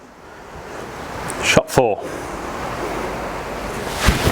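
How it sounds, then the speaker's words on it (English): Strong wind sweeps across an open golf course, a continuous rushing roar buffeting the microphone, with a brief spoken voice in the middle. "It's very, very windy down here today."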